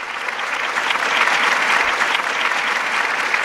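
Crowd applause at an awards-show recap, a steady dense wash of clapping lasting throughout at a fairly loud, even level, with no voices on top.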